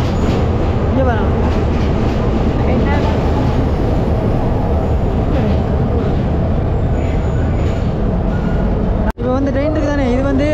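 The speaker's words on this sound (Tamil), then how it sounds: "திரும்ப ஒரு ரெயின் வந்து வருது இங்கே பாருங்க" A train rolls along a railway line through elephant forest, its loud continuous rumble and wheel clatter filling the scene up close, broken by a sudden break before it carries on with a higher tonal whine.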